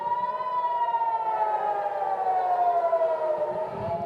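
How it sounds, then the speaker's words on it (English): An air raid siren in Israel during missile fire wails steadily, its pitch sliding slowly downward in a long, continuous tone with a low rumble underneath. "That's the sound of the sirens going off."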